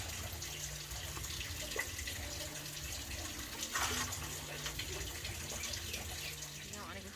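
Mushrooms are washed by hand under running water, a steady faucet stream splashing into a basin with occasional sloshes, fairly quiet and continuous.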